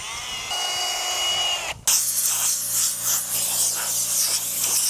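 A power tool scrubs surface rust off a Harley-Davidson motorcycle wheel. A brief high whine cuts out, then a loud, steady grinding hiss with a wavering rhythm runs close up.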